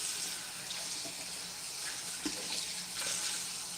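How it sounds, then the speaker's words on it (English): Tap water runs steadily into a kitchen sink while something is rinsed off under the stream during soup cooking, a close, even splashing hiss with no talk. "Rinse this off."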